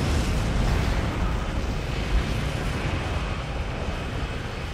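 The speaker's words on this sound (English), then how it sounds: "A lot of gunfire." Weapons fire in a Star Trek space combat video game, a dense continuous roar of blasts and explosions with a brief louder burst near the middle, steady and loud throughout with no talking.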